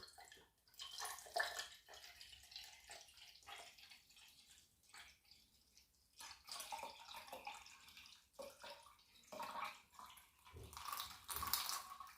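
Water runs from a tap as a kitchen strainer is rinsed after straining beetroot juice, with splashing bursts that come and go over about twelve seconds, close and moderately loud.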